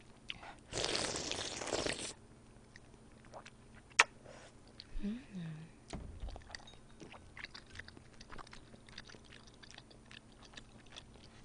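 Someone eating udon noodles and cold chicken salad up close, with a burst of crunching followed by scattered quiet chewing, bites and small clicks.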